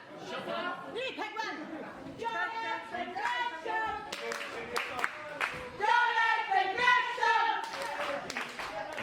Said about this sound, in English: The crowd love them some Jonathan Gresham